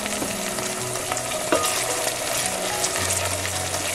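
Peppers and spices for attiéké sizzle steadily in a hot pan while being stirred, a close, continuous frying hiss with a few light scrapes and no talking.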